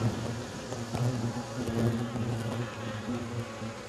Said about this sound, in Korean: 말벌도 지금 여기 한 마리 좀 들어가 있거든요